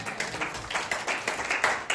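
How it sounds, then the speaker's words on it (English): A church congregation claps their hands together in a sermon about leadership, a dense, steady patter of many hands filling the room with rhythmic accents, loud and close, with little else heard. "Clap your hands and give God glory."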